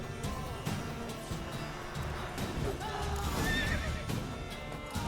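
A horse in The Witcher 3 gives a loud whinny over clip-clopping hooves, with thuds and a short crash mixed in, close and continuous for a few seconds.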